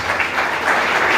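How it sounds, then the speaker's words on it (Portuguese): A church congregation applauds together in steady, dense clapping that holds at a constant loudness for the whole stretch, with no voices rising above it. "Quantos podem aplaudir Jesus com alegria?"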